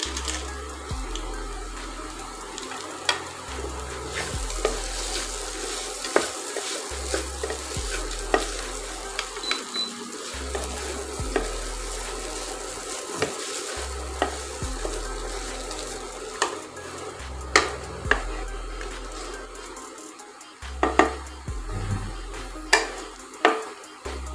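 Dry fruits sizzle in a pan of moong dal halwa while a spoon stirs them, giving a steady frying hiss punctuated by regular scraping strokes and occasional clinks against the pan, close and continuous with no talking.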